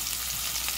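Beef sizzles steadily in an iron pan with olive oil, a dense close crackling fry heard alone.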